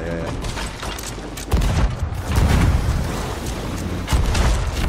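Cannon fire and heavy impacts in the pirate video game Sea of Thieves: repeated loud booms and rumbling bursts over dense game noise, with faint voices underneath.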